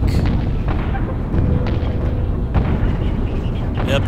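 Artillery fire in the zombie strategy game Atom Zombie Smasher, a dense continuous roar of overlapping booms and blasts with sharper bursts standing out, loud throughout.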